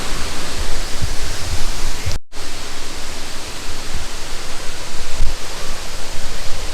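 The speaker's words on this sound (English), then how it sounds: "did you see the waterfall?" A waterfall in the hills around Kodaikanal, India, roaring as a loud, steady broadband rush of falling water throughout, broken by one very brief dropout near the middle.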